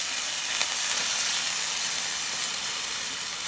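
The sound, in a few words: bacon frying in a pan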